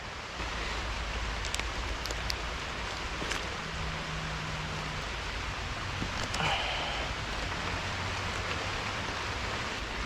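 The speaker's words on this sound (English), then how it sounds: "The rain's really coming down now, isn't it?" Heavy rain pours down around a cyclist riding with a handlebar-mounted 360 camera, a steady hiss of downpour with occasional drips and brief knocks, moderately loud and continuous, with no talking.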